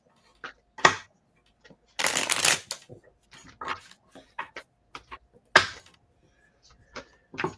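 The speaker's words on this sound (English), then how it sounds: "I'll shuffle for 5 cards." Tarot cards being shuffled by hand in a quiet room: a long riffling burst in the middle, with scattered shorter card slaps and soft flicks before and after.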